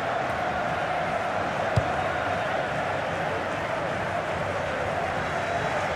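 A steady roar of a large stadium crowd cheering in the FIFA 17 video game, continuous and fairly loud, with a brief thump partway through.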